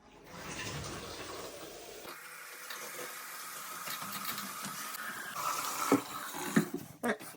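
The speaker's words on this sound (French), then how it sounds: "Allez, je vais réouvrir l'eau." A water tap is reopened and cold water gushes steadily from a mixer faucet, a broad close hiss and splash that rises after a brief start, with a few clatters near the end and no talk.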